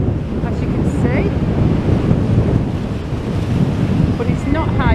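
Waves surge and break along Blackpool promenade under a strong buffeting wind, a loud, unbroken roar of surf and gusts with a few faint, short voice sounds mixed in.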